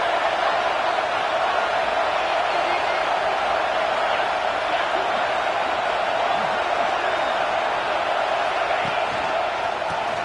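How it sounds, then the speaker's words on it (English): A football stadium crowd roars steadily throughout a rivalry game, a dense, continuous wash of cheering and whoops that never drops away. "Listen to the crowd energy here in the early going."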